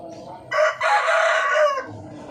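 Young Filipino darag and parawakan chickens, about three months old, with a rooster crowing loudly once nearby, a long drawn-out call over faint farmyard background.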